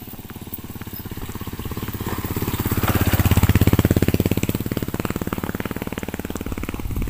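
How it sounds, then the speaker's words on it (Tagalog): Motorcycles on a mountain trail, a steady close engine drone that swells as a bike draws near and passes, then fades slightly, with no voices over it. "Ayun, mga motor."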